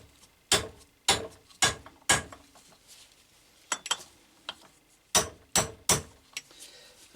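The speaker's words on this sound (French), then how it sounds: "douille et petit coup de marteau" A hammer gives small, sharp taps on a socket to press a seal into a BMW K motorcycle water pump, several close metallic knocks in irregular bursts with short pauses between.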